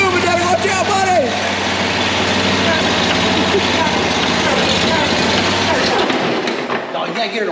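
A commercial lawn mower with a swapped-in Harbor Freight engine runs at a steady idle-like drone, fairly close and loud, with people talking over it until the engine note fades near the end.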